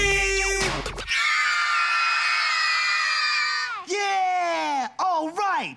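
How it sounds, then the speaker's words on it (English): Children in a TV-show studio audience scream and cheer in one loud, sustained, high-pitched burst, then a few shorter whoops follow. "Somebody scream!"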